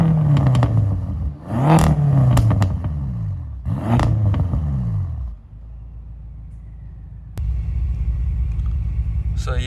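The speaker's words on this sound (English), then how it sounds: "I'll let you guys hear how the M6 sounds" A BMW M6 engine with a new rear muffler revs hard in repeated deep, rumbling bursts, the exhaust rising and falling through several pulls before settling to a lower idle-like drone.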